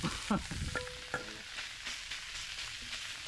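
Shallots tossed into a camp cooking pan for a beef curry with turmeric shoots, giving a burst of sizzling and stirring scrapes early on that settles into a steady, moderate frying hiss.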